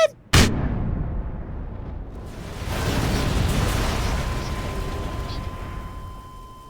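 A flashbang grenade goes off in a video game: one sharp, loud burst, then a long dense roaring wash and a steady high ringing tone trailing behind it.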